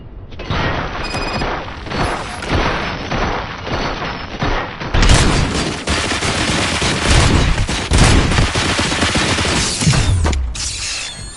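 Dense, loud gunfire from the Robocop Rogue City game, sustained bursts and booms layered with mechanical clanks and ratcheting, continuing almost without pause.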